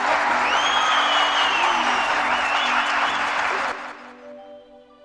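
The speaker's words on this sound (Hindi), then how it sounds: "आप सब जोरदार ताली।" An audience at a commemorative speech event claps loudly together in a sustained burst of applause that tapers off into fading echoes after about four seconds.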